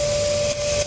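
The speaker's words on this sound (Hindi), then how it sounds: "वैक्यूम के आगे कपड़ा लगा के ये पानी का पाइप लगा दिया, और इसको डाल के अंदर से सारी डस्ट को खींचेंगे" A vacuum cleaner fitted with a cloth and a water pipe as an improvised hose, sucking dust from inside a car's AC ducts; a loud, steady whine with a constant tone, briefly dipping near the end, with no talk.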